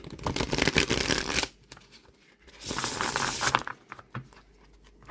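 A Llewellyn cardstock tarot deck from the Dark Wood Tarot is shuffled close up in two riffling bursts of crisp card patter, each lasting over a second, with a short pause between them.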